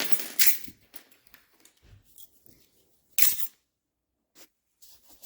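A basket of assorted keys being rummaged and rattled while trying keys on a 1964 Mercury Comet that sat for 23 years, giving scattered metallic clinks and jangles in bursts with quiet gaps between.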